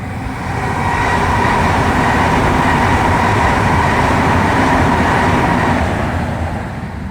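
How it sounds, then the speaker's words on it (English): A train rumbles past near a bridge at night in the rain, a loud, steady roar with rhythmic wheel clatter that swells in, holds for several seconds, then fades slightly. "Yep, trains all night."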